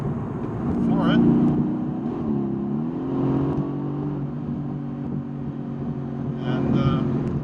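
A 2017 Mercedes-AMG GT S with a dual-clutch gearbox accelerates at full throttle, its engine note surging and climbing through a downshift, loud and close, with someone talking over it throughout.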